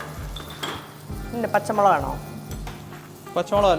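Coconut, shallots, garlic and green chilli sauté in a pan for a beef peralan, with a close sizzle, a spatula knocking and clinking against the pan in repeated strokes, and brief speech between them.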